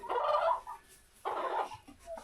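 Two separate throaty bursts from chickens on a cold winter morning, close and fairly loud, separated by a short quiet pause, with a faint call at the end.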